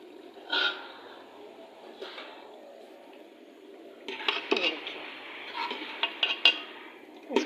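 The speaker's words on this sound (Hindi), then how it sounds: "अब मैंने इसके अंदर ये टिंडे हैं जो मैं मसाले में डाल रही हूँ।" Round gourd (tinda) is being stirred into spice masala in a pan, a series of metallic clinks and scrapes of a spoon against the pan, sparse at first and then more frequent, close by.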